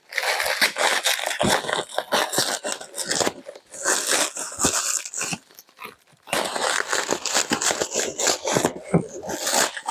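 Crinkling, crunching plastic and tearing tape come from a taped-up parcel holding a 220V mini grinder being unwrapped, loud and close in busy bursts with a short pause midway.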